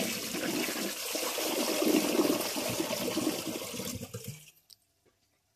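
A Project Source Pro toilet flushes with dirt in the bowl, a loud rushing gush of water swirling down the drain for about four seconds, then cutting off abruptly into silence.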